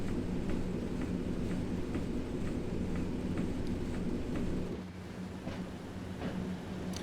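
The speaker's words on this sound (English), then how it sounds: "And the train is running." A BR Class 90 electric locomotive running in a train simulator game, a steady low rumble with a hum and regular faint clicks of wheels over rail joints, easing slightly near the end.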